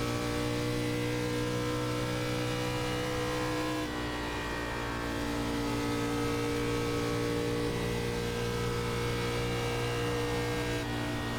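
Race car engine in an iRacing eNASCAR Xfinity Series race at Texas Motor Speedway, a steady droning whine held at high revs with a slightly choppy edge throughout.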